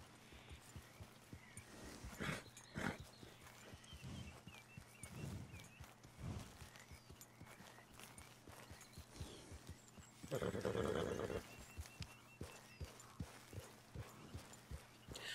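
In a video game, a horse plods along with steady hoof clops, snorts now and then, and gives a loud neigh partway through, heard close in a quiet setting.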